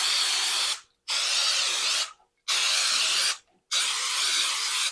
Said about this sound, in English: You want to put this in your pan because the rice pudding will stick if you don't spray the pan really good.